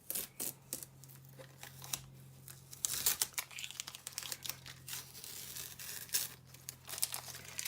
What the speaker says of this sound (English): Let me take the masking tape off for the final touch.